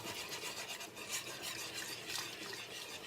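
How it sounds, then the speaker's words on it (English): Whisk stirring milk into a thick roux for soup, a steady soft scraping and swishing close up, continuous and fairly quiet, with no talking. "you got to go slow because you're stirring something thin, milk, into something really thick, which is the roux"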